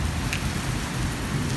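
Heavy rainstorm pouring down on a village in darkness before dawn, a steady, dense roar of rain hitting surfaces close by, continuous and loud with no voices.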